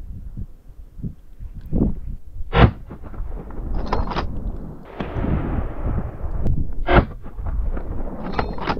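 Hunting rifle shots fired at a game animal outdoors, several sharp loud cracks spaced irregularly across the stretch, with rustling and movement noise between them.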